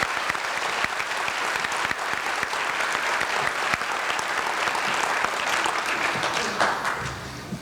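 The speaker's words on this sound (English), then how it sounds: "If you could add some applause and recognition for our Board of Trustees." Steady applause from an audience at a nursing graduation ceremony honoring the board of trustees, a continuous even patter of many hands that holds for several seconds before easing slightly at the end.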